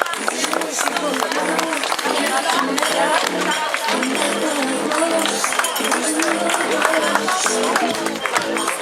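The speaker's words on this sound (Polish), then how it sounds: "duże brawa" Crowd at the finish line of the fourth Iława half-marathon cheering and clapping for a finisher, a loud, dense wash of applause and voices running continuously, with an announcer talking over it.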